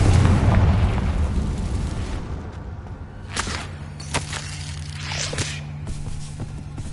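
A Confringo spell in Hogwarts Legacy bursts with a loud, rumbling blast that fades over a couple of seconds, followed by scattered crackles and softer pops.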